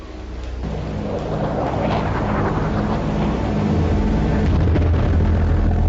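Explosions from aerial bombing attacks in Iraq in 1991, a deep, sustained thunderous rumble that swells and grows louder over several seconds, with no voices.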